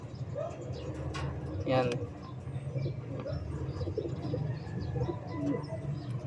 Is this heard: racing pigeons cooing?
yes